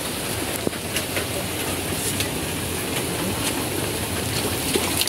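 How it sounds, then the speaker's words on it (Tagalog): Steady rain pours outside a home, a dense constant hiss of falling water with occasional sharper drips and taps, moderately loud and unbroken. "Umuulan? Oo, umuulan."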